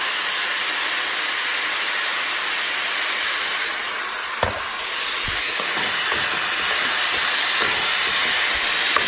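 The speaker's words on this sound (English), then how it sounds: "It starts sizzling." Steady, loud sizzling hiss of fried rice frying in a hot pan, with a few faint clicks and taps.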